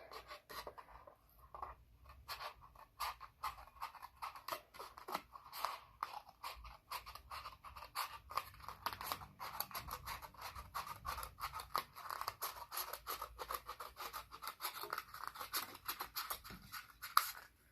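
Scissors snipping through a paper cup during a craft project, a steady run of close, crisp cuts and crunches repeating quickly throughout without any talking.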